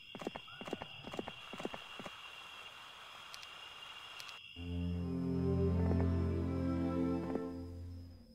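Horse hooves clip-clop steadily as a hero rides across the map in the video game Heroes of Might & Magic 3 HD, a quick rhythmic patter that gives way to a swelling tonal music cue, with faint background sound and no speech.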